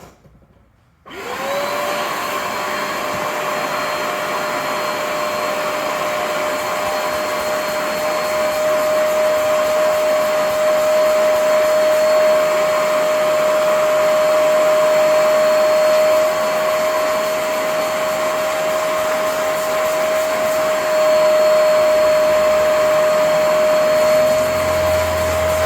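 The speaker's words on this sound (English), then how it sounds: "let's take our extractor. Oh, turn it on." A carpet extractor machine starts up during interior detailing of a Porsche, then runs as a loud, steady roar with a constant high whine, close by and without speech.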